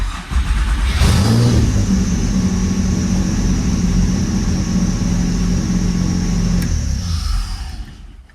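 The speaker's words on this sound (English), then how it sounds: "Really need to fix that squeaky belt." A four-cylinder car engine with 196,000 miles revs up and holds a steady high drone with a thin, continuous squeal from a squeaky belt riding on top, then winds down and fades near the end.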